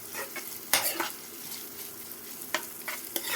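Ginger and garlic sizzle softly in a pan of chicken curry, with scattered clinks and scrapes of a spoon stirring against the pot.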